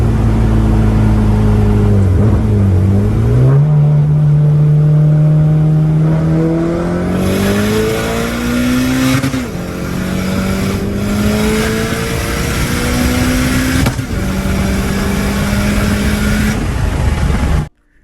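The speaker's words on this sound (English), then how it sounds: "So here's a clip of a Cobalt SS sound." Chevy Cobalt SS engine revving loudly and steadily, its pitch climbing through several gear-like steps with brief dips between, close and continuous for about eighteen seconds with no voices.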